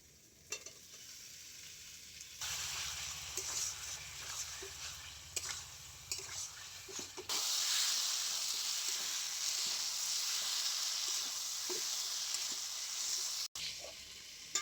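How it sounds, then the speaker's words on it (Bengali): Potato and Malabar spinach stems being sautéed in spice paste for a fish curry, with steady loud sizzling in oil and intermittent scraping stir strokes, quieter at first and swelling as the frying intensifies. "এবারে আমি মশলার মধ্যে আলু পুইনাটা দিয়ে আরো বেশ কিছুক্ষণ কষিয়ে নেব।"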